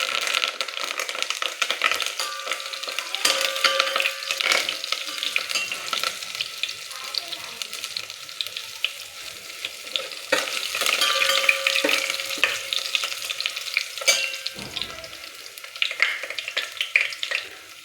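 Garlic and curry leaves frying in hot oil with mustard and cumin seeds, a close, steady sizzle with crackling pops and occasional stirring scrapes throughout.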